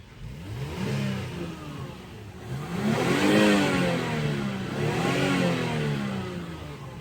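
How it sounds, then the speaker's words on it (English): A Lexus ES engine revs repeatedly with the car parked, rising and falling in several smooth swells over a steady mid-pitched engine tone, fairly loud and close with no talking. "let me just rev that engine for you"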